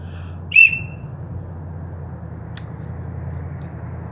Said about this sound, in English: That's the best whistle so far.